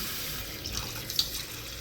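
Tap water runs steadily into a Proctor Silex coffee maker being filled for a pot of classic roast ground coffee, a soft continuous splashing stream with a few small louder splashes, close by and with no talking.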